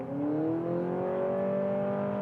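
A compact SUV with a CVT transmission revs high in sport mode and holds a steady, rising drone as it accelerates hard from a launch-control start, loud and close, with no talking.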